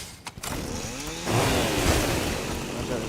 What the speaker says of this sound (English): Oh, there's a chainsaw here.